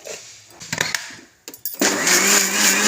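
Kitchen mixer grinder blending coconut for coconut milk, starting with short stuttering bursts, then settling into a loud, steady, high whirring run close by.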